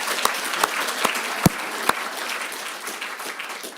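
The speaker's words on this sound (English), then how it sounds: "I think we should just give Abby a round of applause for chairing that so well." An afternoon event audience gives a round of applause, heard as a few sharp separate claps over a soft background wash, fairly close and fading toward the end.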